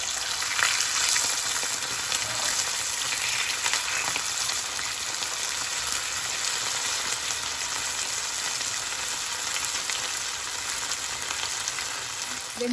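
Spicy fish fillets frying in a pan after being flipped, a dense continuous hiss of hot oil crackling steadily and close with no pauses, alone without talk.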